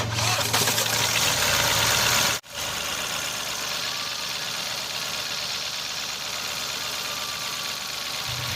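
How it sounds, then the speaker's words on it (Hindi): A Mahindra TUV engine, freshly overhauled with its timing set, cranks loudly for about two seconds, cuts out briefly, then fires and settles into a steady, close idle. "ये कार अभी स्टार्ट हो गई है"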